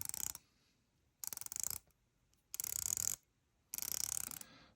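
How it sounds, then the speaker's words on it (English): Aluminum bezel on a Tudor GMT homage watch turning through its 120-click unidirectional action, four short bursts of rapid, crisp ratcheting clicks separated by pauses, close up and alone. "120 click unidirectional bezel"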